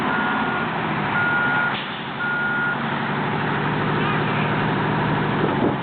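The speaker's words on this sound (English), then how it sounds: "This is the first time we've moved the truck." An American LaFrance fire truck with an Allison automatic transmission, stuck in mud, backs up with a steady series of loud, evenly spaced reversing beeps over a rumbling engine, with a voice speaking briefly.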